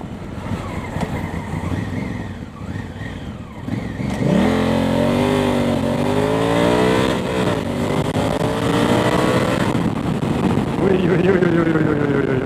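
A Honda CRF1000L Africa Twin motorcycle engine revs hard, climbing and falling in pitch through repeated throttle blips, loud and close with no talk over it.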